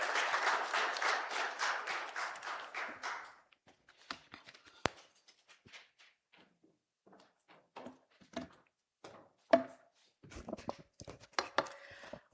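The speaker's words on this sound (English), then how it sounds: "Can we please give the Governor and MPC members a warm round of applause?" A warm round of applause for the Governor and monetary policy committee members at a formal announcement, dense clapping for about three seconds that stops abruptly, followed by scattered knocks, shuffles and faint room sounds.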